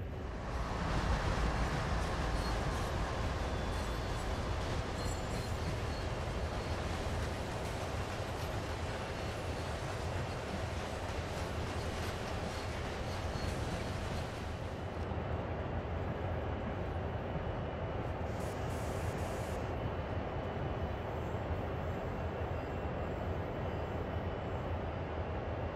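A freight train rolls along in Train Sim World 2020 with a continuous heavy rumble and a broad rushing roar, loud and unbroken, without any speech.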